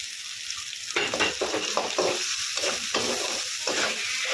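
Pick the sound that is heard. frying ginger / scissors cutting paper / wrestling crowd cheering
frying ginger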